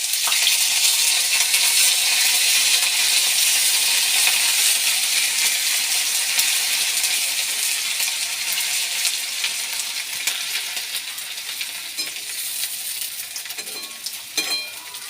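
Grated ginger and cumin hit hot oil in a pan for winter dalia khichdi, crackling in a loud, bright, continuous sizzle that slowly eases, with a few sharp metallic clinks near the end.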